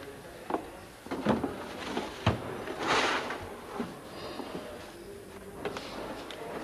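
A drawer at a fire station is pulled open, giving a few scraping wooden knocks and thumps at close range against a steady background hiss, with no talk.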